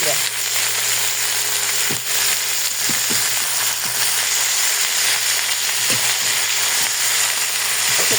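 Flat beans and sliced potatoes fry in a pan with a steady, close sizzle and occasional clicks of stirring, while a person talks faintly over the cooking.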